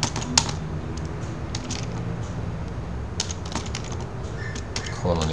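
Fingers tapping a computer keyboard to enter a browser address during a software install walkthrough, a few quick clustered keystrokes under steady room noise with faint speech in the background.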